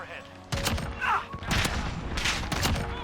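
Pistol fire in Call of Duty Modern Warfare (2019) beta multiplayer: a few sharp, loud shots in quick bursts, including a close two-round pair, heard under a player's running commentary and game noise.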